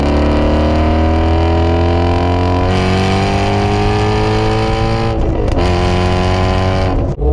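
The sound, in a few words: Ford Mustang engine revving through the gears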